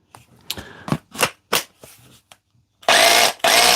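A brushed cordless drill with a fault, missing when drilling starts, whirs in short bursts, several brief spurts followed by two longer, louder runs with a brief pause between them, close up.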